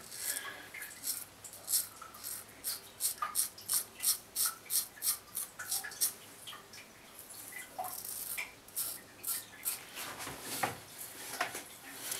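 Close, rhythmic rasping strokes of a Merkur safety razor shaving stubble under the chin, about a dozen regular scrapes followed by a faster, more irregular run of strokes.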